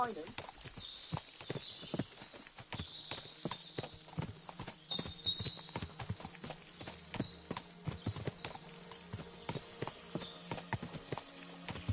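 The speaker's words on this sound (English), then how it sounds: "What a lot of horses!" Many horses clip-clopping in the medieval Kingdom Come: Deliverance II video game, a busy, overlapping patter of hooves on hard ground at a moderate distance, fairly quiet, with an occasional whinny.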